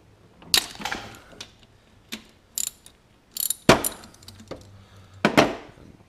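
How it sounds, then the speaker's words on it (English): A wrench ratchets and cracks loose the spring tensioner bolt on a 50cc scooter during a big bore kit install. Sharp metallic clicks and clanks come in separate bursts, close and loud, with quiet gaps between them. "So we want to crack that bolt"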